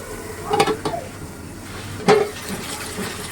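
Eggplant and potato being stir-fried with spices in a pan for a rohu fish curry, with two distinct metal clanks and scrapes of a spatula against the pan over a low, steady background.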